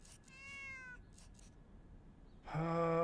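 A cat in the video game Zero Parades meows while being petted: a short run of high, tonal meows, then a pause and a louder, fuller meow near the end, with no talking.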